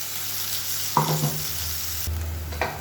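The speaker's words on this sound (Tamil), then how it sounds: "இப்போ இந்த மசாலா நல்லா எண்ணெய் பிரிஞ்சு வர அளவுக்கு வதக்கி விட்டுக்கலாம்." Onion masala for a bitter gourd side dish sautés in oil in a pan, a constant close sizzle broken by a few sharp stirring scrapes, with no voices.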